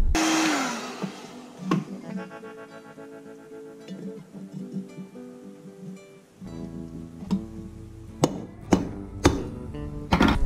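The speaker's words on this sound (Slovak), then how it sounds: "ložisko pri nahádzovaní sa mi troška spriečilo, čiže som musel troška odoklepnúť. Samozrejme nie kladivom, ale takouto drevenou ručkou zo šrobováka" Light taps with a wooden screwdriver handle to seat a cocked bearing, a series of sharp, irregular knocks, sparse at first and clustering toward the end, over a background hum that fades midway.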